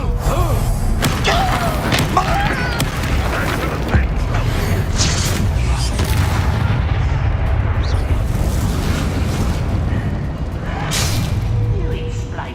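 Spell-casting combat in Hogwarts Legacy, with a Bombarda explosion spell going off amid a continuous dense rumble of booms and magical impacts; a voice calls out spell names over the din.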